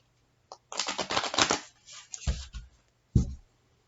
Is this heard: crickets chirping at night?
no